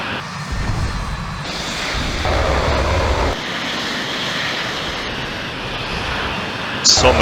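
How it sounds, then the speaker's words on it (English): Aircraft engines drone steadily in the Falcon 4 flight simulator game, a continuous roar with shifting intensity over a Korean campaign battle, loud and unbroken throughout with no pauses. "So many aircrafts in the air."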